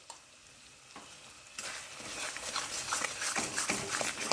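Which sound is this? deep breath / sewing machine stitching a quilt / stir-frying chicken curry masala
stir-frying chicken curry masala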